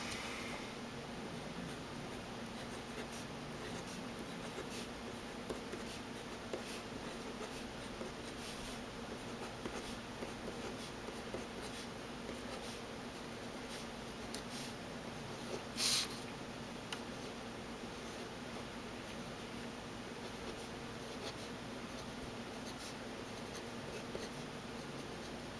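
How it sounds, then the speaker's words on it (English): A Pilot Plumix fountain pen nib scratches softly across paper in short, faint printing strokes, with light ticks of the pen in a quiet room. "let's take a look at how it writes"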